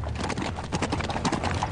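Horse hooves clip-clop in a fast, dense rhythm, loud and close, with a steady broadband clatter throughout and no speech heard.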